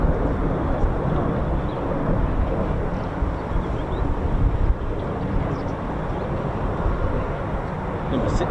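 A Eurofighter Typhoon FGR4 jet braking hard on landing: a steady, broad roar of engine and airflow, somewhat distant and buffeted by wind noise, holding level without a clear peak.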